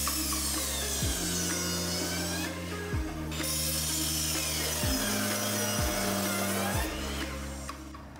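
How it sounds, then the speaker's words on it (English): A miter saw cuts wood for the sides of a floating platform bed, its motor whining steadily through several passes with brief pitch drops between cuts, loud and close with no talking. "so we have our two sides mitered"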